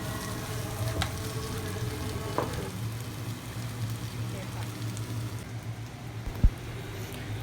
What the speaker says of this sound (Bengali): এখানে মশলাগুলো ভালো করে কষানো হয়ে গেছে এখন এর মধ্যে দিয়ে দিয়েছি টমেটম